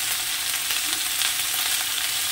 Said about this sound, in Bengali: এবার আমি সবজিটাকে একটু কষে নেব।